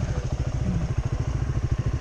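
Dual sport motorcycle, a WR250R or CRF250L, rumbling steadily and close with a rough, pulsing engine note throughout the brief stretch of hard braking.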